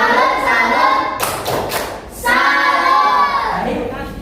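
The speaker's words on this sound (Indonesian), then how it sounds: "Kita berikan tepuk salut" A class claps out a rhythmic salute, a few sharp bursts of group clapping between stretches of chanted voices, close and loud in a room.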